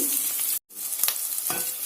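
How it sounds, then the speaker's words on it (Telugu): Dried red chillies fry in hot oil for a fish fry masala, a steady loud crackling sizzle with stirring and one very short break, with no talking. "చూడండి, మిరపకాయలు వేగినాయి."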